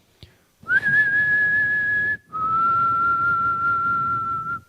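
Someone whistles Negan's tune from The Walking Dead, two long, steady held notes in a row, the second slightly lower, clear and close with no talking.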